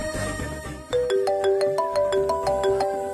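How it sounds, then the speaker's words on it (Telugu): A phone ringtone plays as the manager calls, a bright repeating melodic chime of clear tones in a quick rhythm, loud and alone after a brief softer start. "ఇదిగో మేనేజర్ ఫోన్ చేస్తున్నారు."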